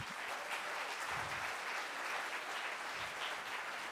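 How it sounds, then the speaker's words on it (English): A conference crowd applauds steadily, a dense wash of clapping that holds at an even level from start to finish with no talk. "Another round of applause."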